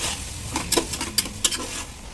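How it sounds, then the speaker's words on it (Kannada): Cabbage and tomato fry in a pan, a soft, faint sizzle broken by a few sharp scrapes and taps of stirring across a couple of seconds. "ಈಗ ಬರೀ ಎಲೆಕೋಸು ಹಾಕಿ ನೀಟಾಗಿ ಫ್ರೈ ಮಾಡಿ"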